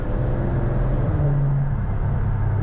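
Dodge Challenger Scat Pack engine drones steadily from inside the cabin, its low rumble shifting pitch partway through as a paddle upshift takes hold.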